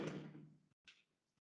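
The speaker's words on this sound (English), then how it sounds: "I'm just going to close this door." An indoor door is closed: a soft swishing movement fades out, followed by a short, quiet shutting knock, with nothing else around it.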